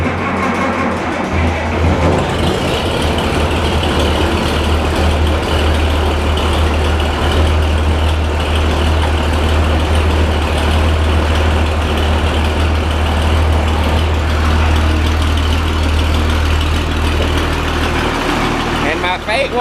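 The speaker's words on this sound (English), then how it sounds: "since it doesn't got the turbo on it, you can still hear that cool old school diesel knock" A new non-turbo diesel tractor idles steadily with a deep, loud, rumbling engine note and an old-school diesel knock, close to the microphone and continuous throughout.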